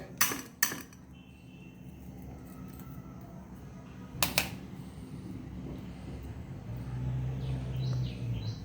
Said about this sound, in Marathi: थोडी गुलाबी करून घ्यायची मेथी आणि खलबत्त्यामध्येच आपल्याला कुटायची आहे